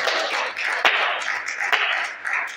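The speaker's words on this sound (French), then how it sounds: "Applaudissons pour ce grand." A church congregation applauds during a bilingual French and English sermon: a continuous wash of many clapping hands, steady and fairly loud, with a couple of sharper claps standing out.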